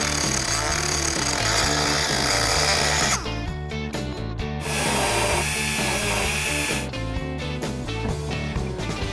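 Power tool cutting open the blanked-out opening of a molded fiberglass hood scoop, a loud continuous buzzing whine that drops briefly midway and then resumes, close by with no talk.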